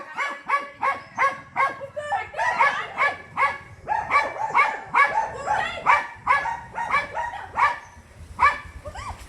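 A pet dog barks at a cobra, a rapid series of loud, close barks in bursts with brief yelps between them, going on steadily throughout.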